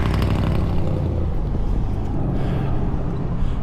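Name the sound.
loud car passing by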